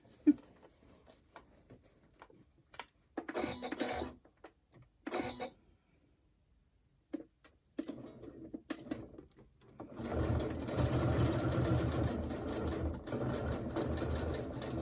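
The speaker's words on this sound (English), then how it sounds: "it's nice to sew across this a lot of times" A sewing machine stitches across a crossbody bag in short start-stop bursts, then runs in one long steady buzzing stretch near the end, close and clear with no talking.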